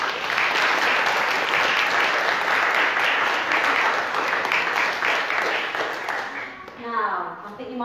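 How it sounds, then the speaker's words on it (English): A church congregation applauds during an all-age Holy Communion service, with loud sustained clapping that fades near the end as a voice begins speaking. "give them one more round of applause."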